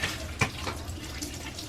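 Faint, steady trickle of water from a camper's sink faucet running for washing dishes, with a few soft splashes.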